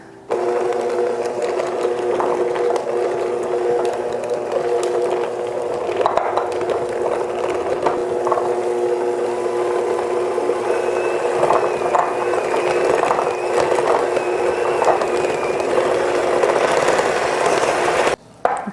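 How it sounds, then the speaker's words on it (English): Electric mixer whipping tallow balm, a steady close mechanical whir with rattling, ratchet-like texture running continuously, speed shifting slightly, ending with a clunk. "So I'll start at a slower temperature and then I'll start at a slower mixer speed and then gradually go up."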